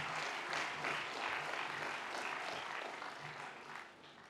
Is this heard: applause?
yes